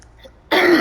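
A single harsh, forceful cough bursts in after a quiet moment, loud and close, with a rough throaty quality.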